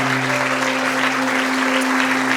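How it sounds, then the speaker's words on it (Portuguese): Congregation applauding during a church service, a continuous dense patter of clapping over a steady low electronic hum from the sound system. "Dê uma salva de palmas a Ele, porque Ele é digno."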